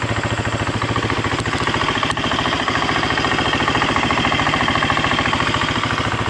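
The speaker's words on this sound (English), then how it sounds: "Motor sounds good." A Husqvarna FE350S dirt bike, freshly fitted with a rebuilt top end and an aftermarket cam chain tensioner, idles close by with an even, rapid thumping beat that holds steady for several seconds.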